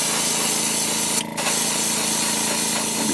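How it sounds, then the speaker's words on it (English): Createx Opaque White paint hissing from a spray gun over a wakeboard, a steady close airy spray broken by one brief pause partway through. "come back now with our Createx Opaque White and spray everything all over"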